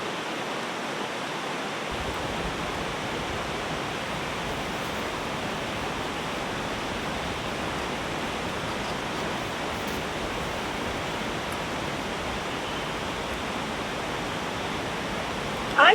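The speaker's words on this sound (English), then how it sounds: "the force of the rain pattering on the outside of the tent was dislodging these little drips" Heavy rain pelts the outside of a camping tent in a constant, dense hiss heard from inside, steady and unbroken throughout, with no talking.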